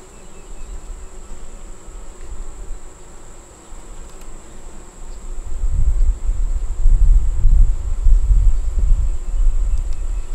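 Low, dense buzzing of many honeybees in a hive, rising louder in the second half with a faint steady high whine.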